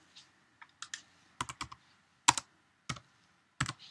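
A command is typed on a Mac keyboard as a handful of crisp, close key clicks land in small irregular clusters against near silence.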